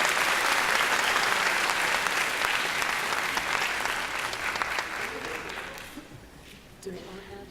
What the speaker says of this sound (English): let's give a hearty round of applause for all of their hard work, dedication, and achievement.